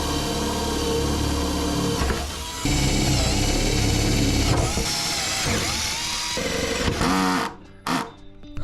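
A power drill bores into fittings while building a camper van kitchen, running loud and sustained with a whining motor pitch that shifts as load changes, then spins down and stops near the end with a brief final burst.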